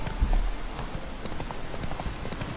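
Horse hooves clip-clop in The Witcher 3 video game, a quiet, uneven run of soft clops over a faint rainy hiss.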